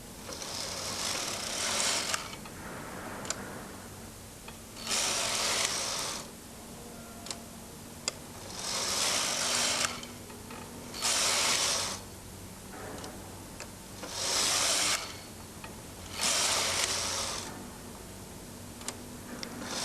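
A Brother knitting machine runs in repeated passes, each carriage stroke a rattling mechanical whoosh lasting a second or two, separated by quieter gaps with small ticks and clicks, close and without voices.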